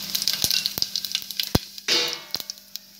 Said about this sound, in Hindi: 1/2 छोटी चम्मच जीरा डाल देंगे,